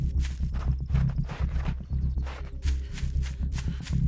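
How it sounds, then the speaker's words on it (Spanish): Heavy footsteps thud on a floor in the survival game Night of the Dead, a loud, steady walking rhythm up close. "Mis pisadas suenan mucho, ¿vale?"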